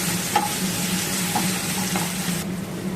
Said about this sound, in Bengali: তেলের মধ্যে হলুদ গুঁড়ো ছিটিয়ে আমি দিয়ে দিলাম আলু। আলুটাকে আগে একটু ভেজে নিচ্ছি।